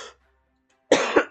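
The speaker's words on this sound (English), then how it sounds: "Cough. What the heck is that?" A single sharp cough, loud and close, with a second short burst following after a brief pause; the clip starts with a faint trailing sound and near silence before the cough in an animated classroom scene.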